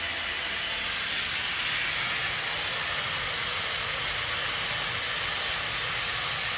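A steady, loud rushing hiss of hot water pouring into a washing machine drum on its highest setting, with steam rising, continuous and unchanging throughout.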